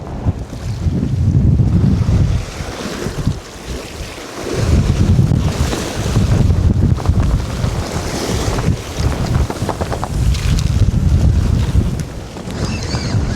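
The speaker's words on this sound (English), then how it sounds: "Gusts of wind." Strong gusts of wind batter the microphone on the Isle of Skye coast during a storm, roaring in heavy surges that rise and fall every few seconds, with the sea washing underneath.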